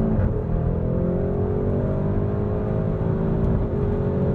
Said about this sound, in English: I love the sound of that overrun